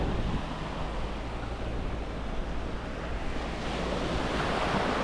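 Strong ocean waves surge and wash in a continuous loud roar, with wind buffeting the microphone, out at sea during net fishing off the Philippines after a typhoon.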